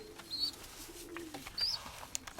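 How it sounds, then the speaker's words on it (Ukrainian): A Grigorov-line pigeon squab gives a few faint, thin squeaky calls, spaced apart over a soft low background hum. "Хочу хочу показати вам Грігорова голубеньонок"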